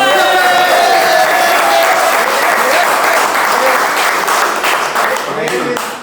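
A cricket team claps together in the dressing room after eliminating Karachi Kings, loud close applause mixed with cheering and voices, fading slightly toward the end.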